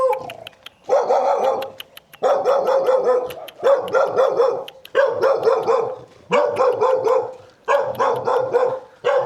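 A mother dog guarding her puppies at a remote mountain-top home barks repeatedly and loudly up close, in rapid bursts separated by short pauses, with a few yips mixed in.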